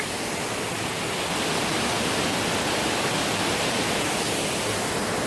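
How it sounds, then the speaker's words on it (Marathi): A farm waterfall roars steadily and loudly, a dense unbroken rush of falling water close by with no other sounds. "कसा वाटला धबधबा नक्की कमेंट करून सांगा."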